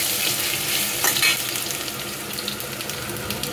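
Potatoes frying in castor oil with cumin seeds and red chili, a dense continuous sizzle close by with a brief stirring clatter, steady and fairly loud throughout.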